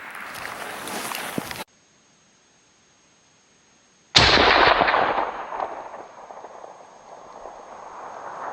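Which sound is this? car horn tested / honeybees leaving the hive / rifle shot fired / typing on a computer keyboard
rifle shot fired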